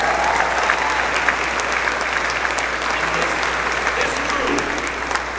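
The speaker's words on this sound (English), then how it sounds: "Yeah, you can clap for that." An audience applauds steadily at the Artemis II crew announcement, a dense, even wash of many hands clapping close and loud throughout, with a brief rise in the final seconds.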